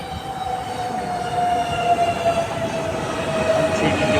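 An RER A MI 09 commuter train from 2000 rumbles at Val d'Europe station, a steady loud rolling drone with a faint tonal whine rising and falling above it.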